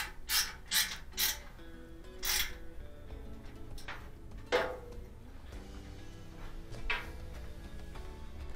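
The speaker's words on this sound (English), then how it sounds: "to tighten the high limit fuse into the burner housing, you turn the Phillips screw clockwise" A Phillips screw being tightened clockwise into the burner housing of an LG dryer, heard as a series of faint metallic clicks and ratcheting ticks, a cluster early then scattered turns later.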